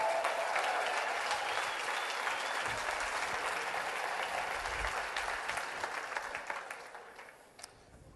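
A room full of people claps steadily for those who completed the IsaBody Challenge, a dense, sustained round of applause that gradually thins and fades toward the end.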